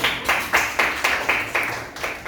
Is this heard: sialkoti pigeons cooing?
no